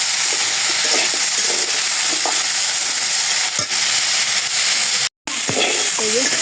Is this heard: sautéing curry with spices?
yes